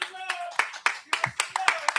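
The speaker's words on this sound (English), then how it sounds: "we want to applaud Jerry" Audience at a live talk-show taping applauding a guest, a short burst of close, irregular hand claps from a small group, with a voice speaking underneath.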